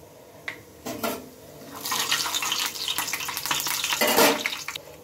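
Black and white cumin seeds hit hot oil on a tawa, bursting into a close, steady sizzle and crackle that swells after a few light taps.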